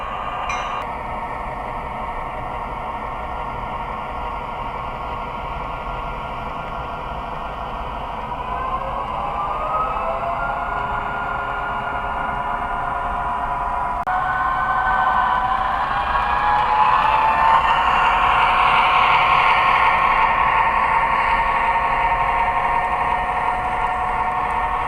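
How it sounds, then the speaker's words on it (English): Steady engine drone from an MTH HO scale F3 diesel freight model locomotive, rising in pitch and loudness as the throttle is advanced; a continuous mechanical rumble with no speech. "as you advance the throttle using the handheld, you'll hear the diesel engine sounds rev up."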